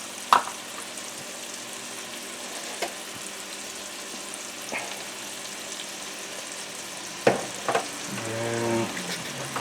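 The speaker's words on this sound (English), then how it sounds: "Look at that sizzle." Cheese steak filling sautés in a pan with salt and pepper, giving a faint, steady sizzle broken by a few clinks and stirring scrapes of a utensil.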